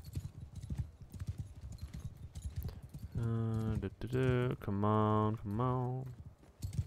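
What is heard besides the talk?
horse hooves clip-clopping in the video game Bannerlord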